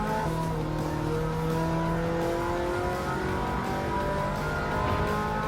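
A Ferrari race car in Gran Turismo 7 revs steadily, its engine note climbing in rising harmonic sweeps with faint tire noise, loud and continuous throughout.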